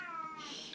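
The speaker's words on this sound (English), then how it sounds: "excuse my cat" A pet cat gives a single short meow indoors, close and clear, a brief drawn-out cry that rises and fades within a second.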